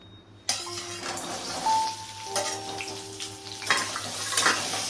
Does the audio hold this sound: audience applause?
no